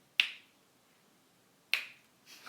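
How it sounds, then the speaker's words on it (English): Two sharp, close finger snaps, about a second and a half apart, ring out in an otherwise quiet room as a meditation session begins, followed by faint rustling. "We'll start when I snap my fingers."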